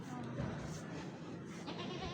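A male goat kept at home gives short bleats over a steady background hum, with a person talking nearby.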